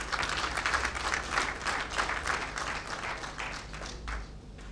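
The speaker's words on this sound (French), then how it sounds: "Je vous demande de l'applaudir." An audience applauds steadily at an evening book launch event on customs law, a dense wash of clapping that fades slightly near the end.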